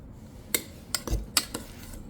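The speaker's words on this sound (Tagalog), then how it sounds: "So, haluin natin ngayon." Dog food is mixed with ketchup in a bowl. A utensil clinks and scrapes against the dish in a few sharp, close knocks over a quiet background.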